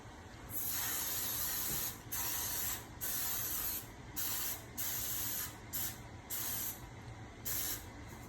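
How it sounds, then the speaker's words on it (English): Cooking grease sprays from an aerosol can into a baking pan for a pound cake, in about eight close, hissing bursts of varying length with short pauses between them. "I use this and I spray it in the pan, and that helps."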